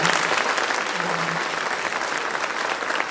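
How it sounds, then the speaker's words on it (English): A school audience gives dense, sustained applause at a colourful Ramayana presentation by kindergarten students, a loud, even wash of clapping with no break. "So I want a louder applause"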